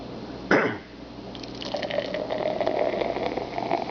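Lager poured from a can into a glass: a sharp can hiss or clink, then a steady foaming fizz and gurgle of liquid filling the glass, close and continuous.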